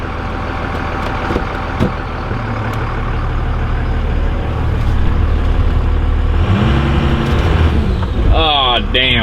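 Tuned Cummins diesel truck engine running loud and close, idling steadily and then revving up as its pitch climbs, with a high tire squeal near the end and speech faintly underneath.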